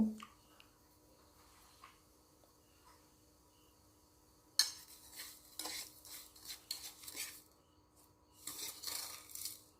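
Close knife cuts on a board come in irregular bursts as vegetables are cut into two-inch lengths, with light clatter of utensils after a quiet start.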